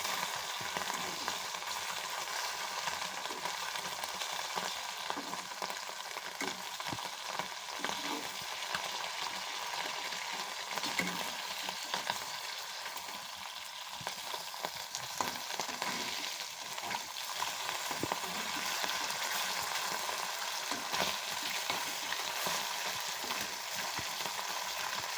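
Food fries lightly in a pan with a continuous soft sizzle and occasional stirring scrapes, close and even throughout with no talking.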